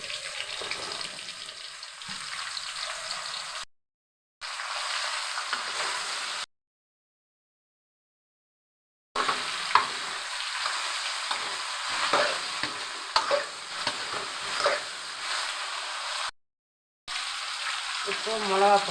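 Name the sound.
eggplant frying in a pan with garlic and onion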